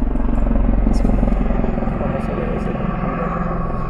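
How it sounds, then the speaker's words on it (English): A helicopter flies overhead, its steady rotor and engine drone holding loud and continuous throughout, with a voice talking over it. "That's a helicopter."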